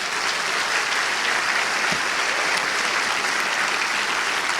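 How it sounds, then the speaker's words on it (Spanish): A church congregation claps in dense, sustained applause during a sermon, loud and even from start to finish, with no talking heard. "Un aplauso al Señor."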